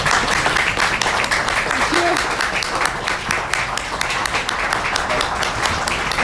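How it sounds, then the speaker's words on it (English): An audience applauds steadily at a cultural event in a Brussels venue, dense clapping filling the whole stretch at a strong, even level with no speech over it. "Therefore, applause for Svetlana Spaić!"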